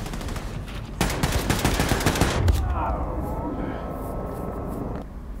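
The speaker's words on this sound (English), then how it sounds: "Machine gun isn't cutting it." Rapid automatic machine gun fire in the Wolfenstein II shooter, a dense burst of shots from about one to two and a half seconds, loud and close, followed by lingering game noise and a whining tone as talk continues over it.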